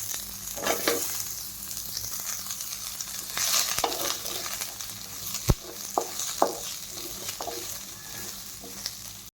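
Chopped onion sizzles softly in a dry pan over low heat, punctuated by occasional scrapes and clinks of a spoon stirring, with no talking.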